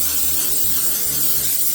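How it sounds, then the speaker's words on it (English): Cooking spray hisses into protein bar molds in a steady, continuous burst lasting about two seconds, close to the microphone, with a low electrical hum running underneath. "Spray your molds, folks."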